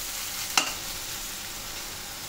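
A pan sautés on a high flame, giving a steady, even sizzle with a single sharp scrape or clink of the stirring spoon, close and continuous, with no speech.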